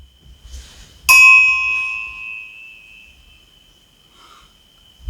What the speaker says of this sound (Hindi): इसलिए मंदिरों में घंटा होता है ताकि आप उसको ऑब्जर्व कर सकें